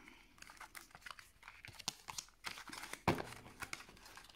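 Tarot cards being cut and handled: soft crinkling, flicking and tapping of card stock in irregular bursts, close and quiet, with one sharper snap of cards partway through and no talking.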